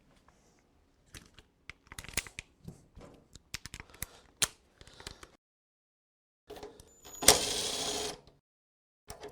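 Socket wrench work on car bolts with 12mm and 13mm sockets, heard as scattered sharp metallic clicks and ratcheting bursts, then a dense noisy rasp near the end, close and fairly quiet.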